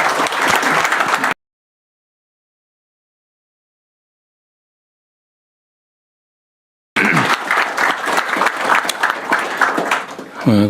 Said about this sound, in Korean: 우리 총리님한테 박수 한번 쳐주시죠.